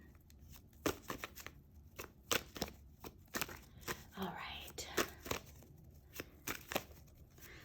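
Soft, rapid riffling and snapping of a deck of cards being shuffled, repeated in bursts close up, with a brief quiet voice.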